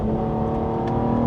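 A 2026 Cadillac CT5-V accelerates with a loud, steady engine drone close by, a brief crackle of exhaust pops near the end standing out over the rumble.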